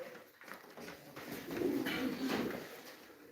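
Soft, low pigeon coos murmur close by, a few throaty calls rising and falling against a quiet background.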